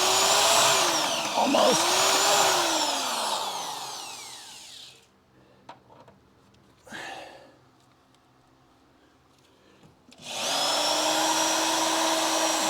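A power drill bit bores through car body metal on a Crew Cab Charger under restoration, right at a seam. A loud whining burst is followed by quieter gaps and short bites, then the drill starts again. A voice briefly speaks.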